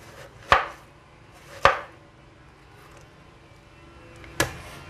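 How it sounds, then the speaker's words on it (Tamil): A knife cuts through watermelon in three sharp, distinct chops against a board, the first two about a second apart and the third after a longer pause, close and fairly quiet. "அடுத்தது நம்ம வந்து இது இப்படி ஸ்லைசஸ் பண்ணிக்கலாம்"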